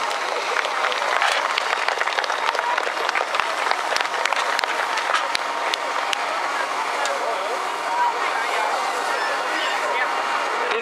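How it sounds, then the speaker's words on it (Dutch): An outdoor crowd gives sustained, dense applause for a fire brigade demonstration team at a 2012 safety day in Beverwijk, with the clapping steady and fairly loud throughout and voices faintly mixed in. "Ik zou zeggen, applaus voor het demo-team."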